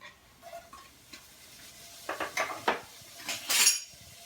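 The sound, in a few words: bacon put into a hot pan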